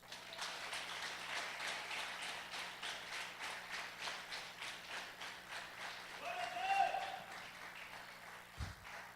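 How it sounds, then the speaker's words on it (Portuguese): Congregation clapping during a church service, a steady rhythmic patter of many hands at moderate distance with a brief whistle-like tone and a knock near the end. "As palmas louvam ao Senhor, irmãos."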